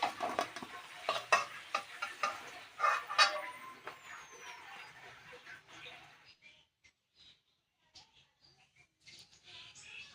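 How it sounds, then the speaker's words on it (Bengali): Prawns frying in hot oil left over from frying potatoes give a busy crackling sizzle with scraping and clinks for about six seconds, then fade to quieter, sparse pops. "আর এখন আমি এই তেলেই চিংড়ি মাছগুলো ভাজা করে নেব"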